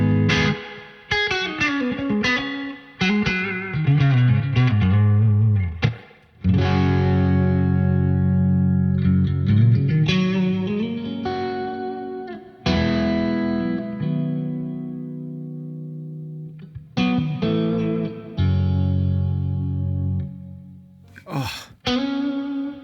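Guitar run through a UAFX pedal with a spring reverb effect, playing sustained chords and picked notes with a drenched, echoing ambient tail, loud and alone, with a brief break midway.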